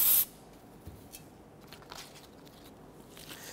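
A spray bottle gives an aluminum surface one short, loud, close hiss of spray at the very start, followed by quiet handling noise.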